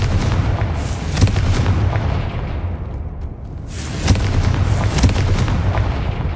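Confringo blasting-spell explosions from the video game Hogwarts Legacy boom in loud, rumbling bursts over a dense battle soundscape, with sharp impacts punctuating a continuous low roar.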